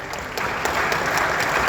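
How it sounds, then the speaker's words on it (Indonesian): Applause at a televised Indonesian news and talk-show event, a steady broadband patter of many hands clapping, starting slightly softer and then holding an even, dense level throughout the short stretch. "Kita tepuk tangan."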